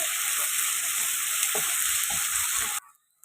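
Ginger garlic paste frying with onions in oil for a chicken gravy curry, a loud continuous hiss with a few soft scrapes, cutting off abruptly near the end.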